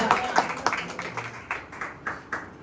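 Scattered hand claps from a church congregation during a Tamil sermon, a handful of sharp, fairly faint claps at uneven intervals rather than sustained applause.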